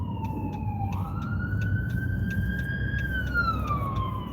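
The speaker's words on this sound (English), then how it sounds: "I'm not sure where this ambulance is going." A wailing siren sweeps up and down in pitch as an emergency vehicle passes at a distance, over a low rumble of traffic.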